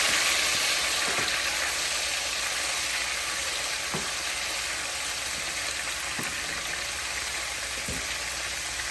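Oil left from cooking shrimp sizzles steadily in a pan while it is stirred, with a constant loud frying hiss and a few faint utensil taps spaced through it.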